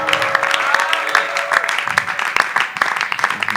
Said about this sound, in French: C'était vraiment pour toi ces acclamations